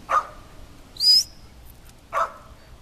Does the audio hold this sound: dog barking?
yes